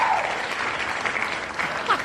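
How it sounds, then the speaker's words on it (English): Applause breaks out during a gaming podcast's mock NBA-style lottery draft, a steady wash of clapping lasting about two seconds, with faint voices mixed in. "Applause."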